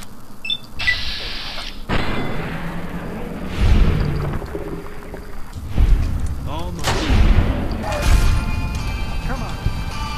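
Gunfire in Fallout: New Vegas: heavy booming shots and impacts land every second or two, loud and close, mixed with crashing thuds and game noise, while a voice talks over parts of it.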